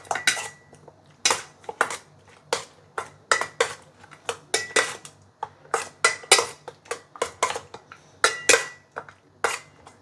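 A metal utensil scrapes and clanks against a pan while stirring a sweet and sour dish, a steady run of sharp, close clinks and knocks in an irregular rhythm with no talk.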